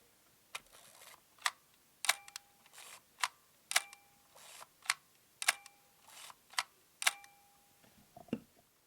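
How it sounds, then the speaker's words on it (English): A film camera shutter clicks crisply about a dozen times at a steady pace, each sharp snap followed by a brief mechanical whir, in a quiet room. "see what the shutter sounds like"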